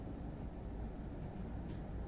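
A train rumbling along in Microsoft Flight Simulator 2020, a steady low, dense drone that stays even and fairly quiet throughout, with no speech over it.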